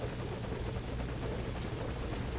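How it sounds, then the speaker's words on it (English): Helicopter rotor thumps steadily at close range in the video game Metal Gear Solid V: Ground Zeroes, a continuous rapid chop with no pauses. "Looks like I can hang out on the side of the chopper."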